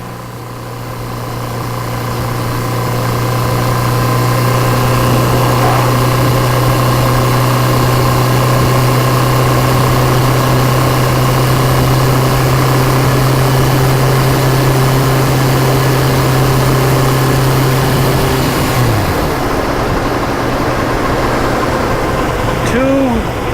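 Steady motorcycle engine drone during a road trip ride in Ohio, a continuous loud hum that holds level until near the end, then shifts in pitch as the machine slows or changes gear, with wind noise throughout.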